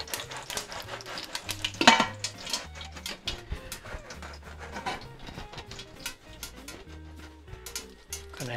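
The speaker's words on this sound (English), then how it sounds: "Stir that up, keep it going." Spoon stirring bay leaves and a cinnamon stick in a chicken curry pot, with repeated scraping and clinking strokes against the metal in an uneven rhythm, close and moderately loud, with one sharper knock near the start.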